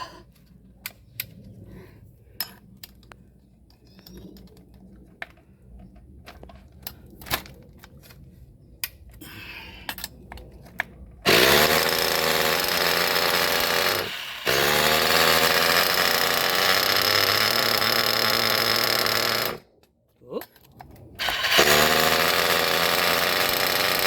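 An RCR-modded Alpha .28 model engine bursts into a loud, high-pitched buzzing whine after several seconds of small handling clicks and taps, cuts out briefly, restarts, stops again and then fires back up.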